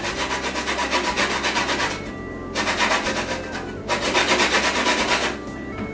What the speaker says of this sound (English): the first thing we want to do is get our lemon zest